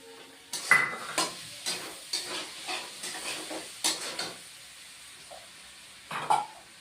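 Ginger paste and Kashmiri chili powder fry in a pan for a light potato and cauliflower curry with bori: a soft, quiet sizzle under intermittent spatula scrapes and clatters, with a few pauses.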